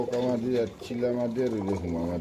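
Pigeons coo in cages at a bird market, a steady layered low warbling that runs through the whole stretch, close and moderately loud, with voices talking faintly underneath.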